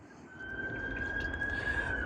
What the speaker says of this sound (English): Apologies for the ambulance in the background.